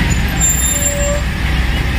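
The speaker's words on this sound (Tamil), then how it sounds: "கர்நாடக வண்டி, பெங்களூர் டு கர்நாடகா பாருங்க," A Karnataka truck from Bangalore on a mountain road in the Erode to Dhimbam ghat stretch, its engine rumbling steadily and loud up close with a brief air-brake hiss.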